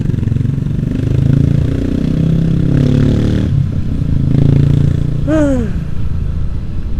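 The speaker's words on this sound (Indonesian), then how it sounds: "Motornya enak men." A motorcycle engine while riding in traffic, a loud close steady engine drone with shifting revs, ending with a brief rising squeal or horn-like tone near the end.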